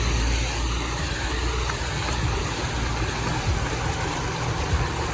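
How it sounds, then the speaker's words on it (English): Vehicle engine running steadily as it drives through flood water on a Gambian road, a constant low rumble with broadband noise throughout, no talk. "let's follow this vehicle and see how they're able to go through this water."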